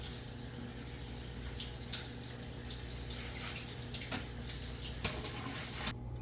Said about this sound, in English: So now we need to rinse it to get all the chemical off of it.